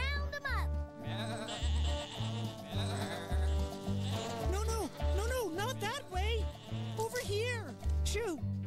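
Cartoon sheep bleat repeatedly in wavering, high calls over a bouncy musical score with a steady low beat, the bleats coming in quick bursts throughout.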